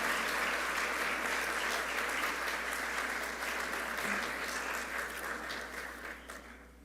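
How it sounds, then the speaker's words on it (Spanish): Steady applause from an audience at a university research conference opening, a continuous, even wash of many hands clapping for several seconds that gradually fades toward the end, with no speech. "les brindemos un fuerte aplauso a todos aquellos que han obtenido grandes resultados en cada uno de estos diferentes eventos"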